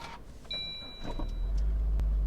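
A car engine turns over and catches, rising into a low, steady idle after a short electronic beep and some cabin rustling.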